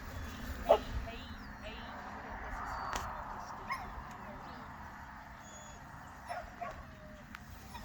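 A female dog whimpers and gives short, scattered yips at close range, with people talking quietly throughout.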